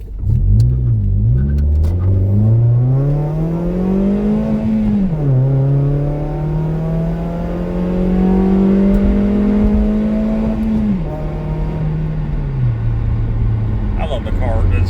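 A Toyota Yaris on new tires drives and accelerates, its engine droning loud and steady with rising and falling pitch through the gears, a continuous near rumble with no talk.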